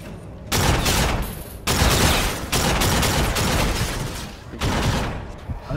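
Sustained bursts of futuristic laser gunfire from the Call of Duty: Infinite Warfare campaign, loud and dense, in long volleys broken by brief gaps, like a chaotic firefight.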